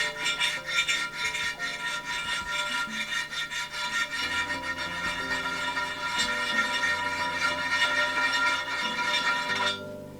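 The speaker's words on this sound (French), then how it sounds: "j'ai utilisé une grosse lime qui est en métal" A large metal file rasps against a restored ceramic piece in a steady, continuous back-and-forth scraping with a faint ringing tone from the dish, close up and alone.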